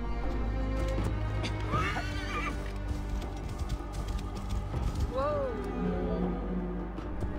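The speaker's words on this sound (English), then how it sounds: "I think we will need our horse now" A horse in Assassin's Creed Origins, set at Djoser's Step Pyramid complex, gives two distinct whinnies amid a muffled clip-clop of hooves, fairly close, with faint game ambience beneath.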